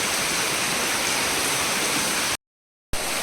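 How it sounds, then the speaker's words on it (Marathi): Steady, loud rain pouring down with a dense hiss, briefly cut to silence before resuming. "इकडे आता पाऊस पडायला लागला आहे"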